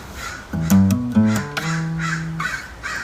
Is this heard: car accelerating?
no